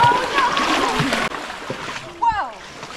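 Wading through knee-deep mud and waist-deep water while camping, with sloshing and splashing steps close by, a sudden break midway, then more watery churning under a voice.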